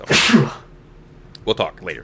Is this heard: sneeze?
yes